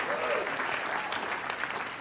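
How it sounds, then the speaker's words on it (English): Comedy club audience at a Native American stand-up show applauding in a steady, dense burst, with a voice briefly heard over the clapping. "You don't have to clap."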